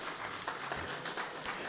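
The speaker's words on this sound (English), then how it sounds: "Big round of applause for these guys." An audience claps at a public RCMP meeting in Eastern Charlotte, a soft, steady patter of many hands from an indoor crowd, somewhat distant and without speech.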